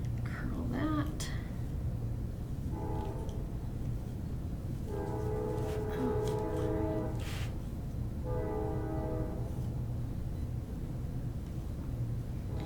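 A train rumbles past farmland, its horn sounding in several separate blasts, some short and some long, over a constant low rolling drone, with a person talking nearby.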